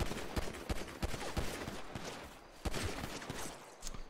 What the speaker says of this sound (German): jetzt schießt jeder